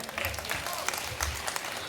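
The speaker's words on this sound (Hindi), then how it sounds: "जोरदार ताली भाई" An audience at a Hindi poetry recital breaks into applause, a dense, sustained patter of many clapping hands with a low murmur of voices beneath.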